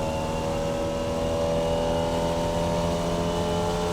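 A Formula Vee race car engine at speed in the iRacing simulator, a steady loud droning buzz with held harmonic tones and no rise or fall, running alone throughout.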